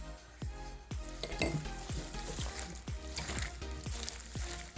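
Skate seasoned with garlic is stir-fried in a pan, giving a close, steady sizzle broken by regular scraping strokes about twice a second, with a few soft clinks of utensil on pan and no talking.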